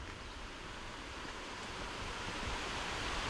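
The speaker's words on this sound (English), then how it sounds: "I can hear the water flowing from here" Water rushes steadily over a dam at Chadwick Lakes in Malta, a broad, even hiss of flow that swells slightly louder toward the end, with no voices over it.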